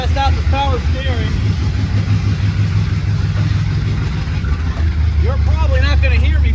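A 1972 Corvette fitted with new power steering is driven on a test run, its engine a constant low rumble up close while voices talk over it.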